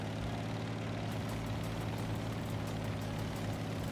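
A tank engine idles in a video game, a steady low rumbling drone that holds constant and moderately loud with no talk over it.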